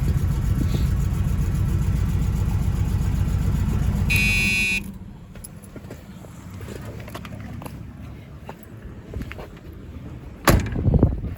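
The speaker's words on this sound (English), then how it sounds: "Door shut fine." An engine hums steadily before a buzzing tone cuts off; later a single sharp thump of a 1979 Cutlass Supreme's door shutting lands near the end.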